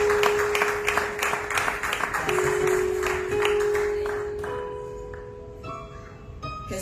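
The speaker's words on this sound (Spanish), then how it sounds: "Denle un aplauso al Señor." A church congregation clapping for the Lord in a steady rhythmic beat, joined by sustained tones from instruments, with the claps thinning out toward the end.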